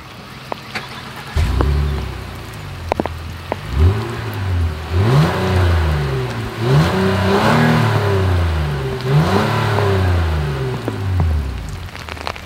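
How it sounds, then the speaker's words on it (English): 2024 Honda Ridgeline engine revving through its dual exhaust, several rising and falling revs in a row, loud and close outdoors with a light patter of rain in the background and no talk. "As always, here is that exhaust clip."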